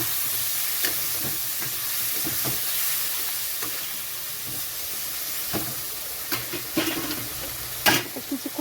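Potatoes sizzle steadily in hot oil with green chilli, salt, turmeric and cumin paste added, a continuous frying hiss broken by a few sharp scrapes and stirring knocks near the end, with no one speaking.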